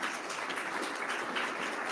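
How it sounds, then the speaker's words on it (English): An audience at an early college event applauds in dense, steady clapping that fills the room evenly, with no voices heard over it. "I think they're clapping for JD."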